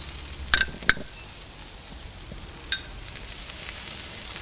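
Pork ribs sizzle on a grill while they are turned and basted with smoky sauce: a steady, close frying hiss broken by a few sharp clicks and taps.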